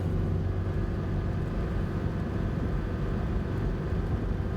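A truck drives along with its engine running. A dense, steady rumble fills the clip at a constant loud level, close and unbroken, with no voices.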